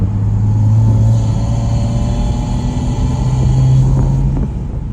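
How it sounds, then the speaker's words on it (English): Loud, close engine drone of a Porsche 718 Spyder RS, with a whooshing intake beside the driver's left ear and throaty exhaust note, pitch shifting slightly as the revs rise and settle. "is the air being sucked in over my left ear and through the air intake here"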